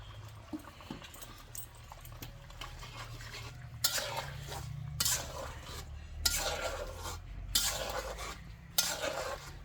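Cumin and garam masala being stirred into mutton curry in a pot, a spoon scraping and clinking against the metal in a steady series of close strokes, with brief louder scrapes.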